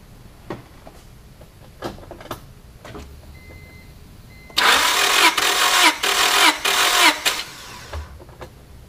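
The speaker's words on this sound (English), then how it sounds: "crank the engine over in order for us to get our reading" An engine cranks over on the starter during a compression test: a few faint clicks, then a loud, rhythmic whirring crank for about three seconds with four pulsing puffs, close and alone.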